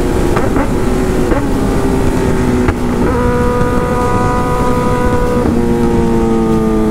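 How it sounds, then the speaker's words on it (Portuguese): Powerful Hornet motorcycle exhaust roars continuously, its pitch stepping up and down through several rev changes, loud and close throughout. "Mano, que ronco é esse, velho?"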